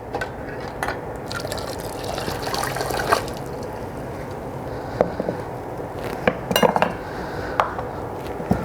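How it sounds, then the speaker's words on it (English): Glass canning jars of strawberries clink and knock against metal as they're lowered with a jar lifter into a boiling water bath, with sloshing liquid and scattered sharp clatters throughout. "I'm just going to use my jar lifter and put that back in the water"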